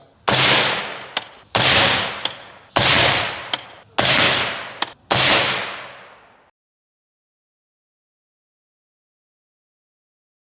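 Five suppressed shots from a 20-inch Bushmaster AR-15 firing M193 clone 55-grain ammunition, each a sharp loud crack with a short decaying tail, spaced roughly a second apart, followed by silence.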